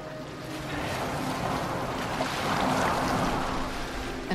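Boat gliding across water in Assassin's Creed Valhalla, a steady broadband wash of water and wind with a low hull drone, no speech, moderately loud throughout.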